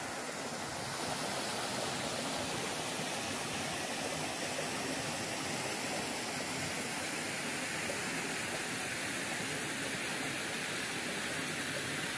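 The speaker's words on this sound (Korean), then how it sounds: "작지만 아담한 폭포가 반겨줍니다" A small waterfall near Soyang Lake gives off a steady, broad rush of falling water, close and continuous without any break.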